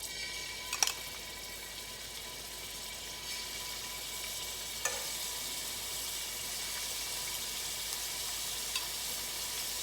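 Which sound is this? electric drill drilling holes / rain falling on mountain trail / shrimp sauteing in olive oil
shrimp sauteing in olive oil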